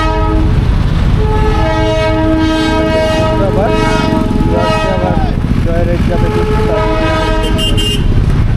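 Train at Ghum station in Darjeeling, a loud, sustained horn tone with rich harmonics over a heavy rumble of engine and wheels, with voices talking underneath.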